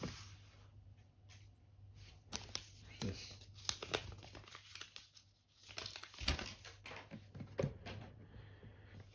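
A Lego Star Wars Arc 170 battlepack being unpacked from plastic packaging, with close, irregular crinkling and tearing bursts of plastic, and some quiet talk in the background.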